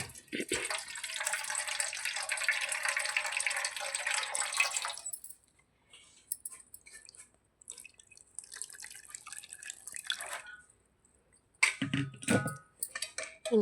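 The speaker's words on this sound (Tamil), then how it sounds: "நம்ம தேவையான தண்ணி ஊற்றிக்கலாம்." Water pours in a steady stream into a cooking pot for mango rasam, lasting about five seconds, then gives way to scattered drips, light clinks and brief splashes nearby.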